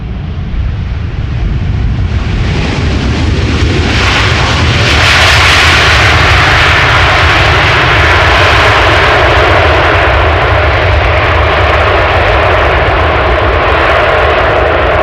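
A twelve-year-old Boeing 747-8 jet airliner at Amsterdam Schiphol Airport gives a loud, close engine roar that swells after a few seconds and then holds as a powerful, sustained rumble, with no talking.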